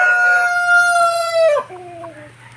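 A rooster of a backyard flock bred from a Sweater sire and Mersim Black hen crows once, loud and close, a long harmonic call that breaks and trails off into a lower, quieter tail.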